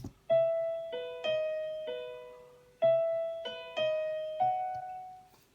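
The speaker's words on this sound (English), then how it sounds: "And then I've just done the little piano line, which is in the choruses." Short melodic piano line from a pop song chorus, about six clear notes struck in a slow, evenly spaced rhythm, each decaying before the next, close and alone.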